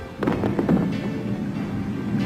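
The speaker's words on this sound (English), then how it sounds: "They're setting off fireworks again!" Fireworks being set off, several quick muffled bangs and pops in a rapid cluster followed by a fading rumble, moderately loud and heard without talk.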